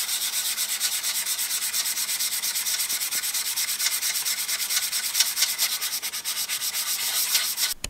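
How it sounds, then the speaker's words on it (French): Steady, close abrasive rubbing of sandpaper on an engine cylinder head, continuous and loud for the whole stretch with no pauses or voices. "le but c'était de continuer à poncer avec des grains bien plus fins évidemment"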